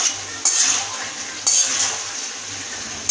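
Cauliflower and potato curry with ghee is stirred in a pan: a utensil scrapes and clinks against the metal under a steady soft frying hiss, with two brighter knocks.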